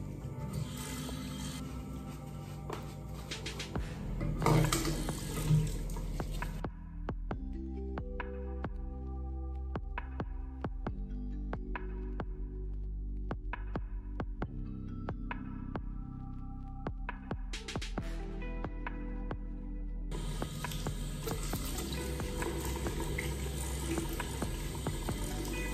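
A tap runs steadily into a sink as a face is rinsed of cleansing foam, with splashing and shifting water flow, close and moderately loud with no talking.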